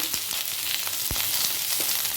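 Drumstick pieces and potato frying in oil on a medium flame give off a steady, close sizzle with a few faint stirring clicks.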